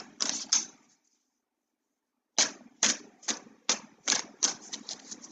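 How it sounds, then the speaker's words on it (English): A deck of cards is shuffled in a quiet room, with a quick riffle, a pause, then a run of sharp, evenly spaced snaps and flicks, close and crisp. "I'm shuffling and doing these cards"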